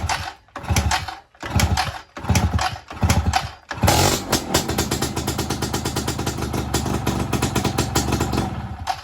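Yamaha RX King two-stroke motorcycle after a CDI installation: a few revving bursts as the engine catches and starts, then it settles into a loud, steady, close-up idle with a rattling buzz.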